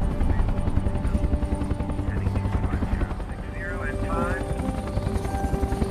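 Helicopter flying in the zombie film World War Z, a steady rhythmic rotor chop with engine drone filling the scene, heard under speech and other film sounds.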